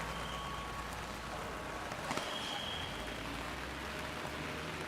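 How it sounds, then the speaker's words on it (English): Rain falls during a walk through Tokyo as a steady, dense hiss. A brief clatter cuts in near the middle, and no speech is heard. "The rain is really picking up."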